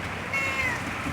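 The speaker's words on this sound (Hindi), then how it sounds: "मेरी बिल्ली बेचारी डर कर बैठी" A frightened pet cat gives a single short meow, close and clear, during rain in Karachi.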